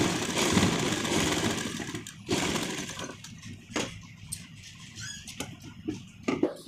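A sewing machine runs a straight line of stitching along a sleeve in short bursts, whirring close by with brief stops and restarts between runs.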